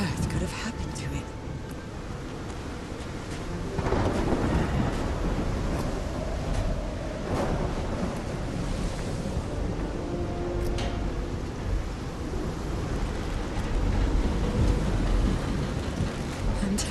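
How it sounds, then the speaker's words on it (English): Thunderstorm in the video game Call of the Sea, with steady rain hiss and deep rolling thunder rumbles swelling at moments, continuous and fairly loud throughout. "I've always been afraid of storms"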